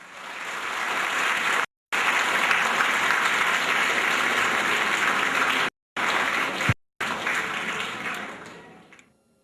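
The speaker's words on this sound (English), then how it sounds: "Let us give her a big round of applause." Steady, dense applause from a graduation ceremony audience, sustained loud clapping that cuts out briefly a few times before tapering off.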